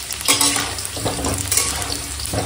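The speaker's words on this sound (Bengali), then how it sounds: "তো দেখো এখন আলুটা ভাজা হয়ে গেছে" Small whole potatoes fry in hot oil in a pan, a close, lively sizzle broken by a few bursts of scraping and stirring with no speech.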